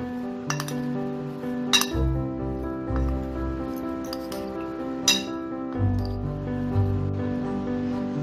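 A spoon clinks against a bowl while paneer salad is mixed with lemon juice and olive oil, with several sharp, bright clinks spaced out over soft stirring and squishing.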